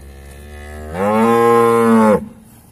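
A Friesian crossbred dairy cow, offered for sale in Pakistan, lets out a single loud, close moo lasting just over a second, rising from a quiet background and cutting off sharply, with no talking.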